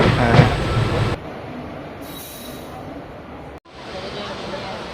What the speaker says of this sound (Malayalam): നമ്മൾ ട്രെയിൻ എത്തിയിട്ടുണ്ട്